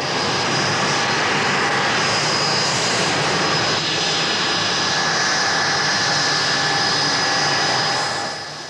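A Blackburn Buccaneer jet with the RAF roars loudly and steadily, its engine whine holding a high sustained pitch with a broad rushing noise beneath, close and continuous with no voices.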